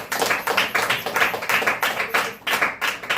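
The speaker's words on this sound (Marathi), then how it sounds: "छान टाळ्या देवासाठी वाजवा" A church congregation claps for God during a Sunday service, a dense run of quick, irregular hand claps filling the space at steady loudness with no talk over it.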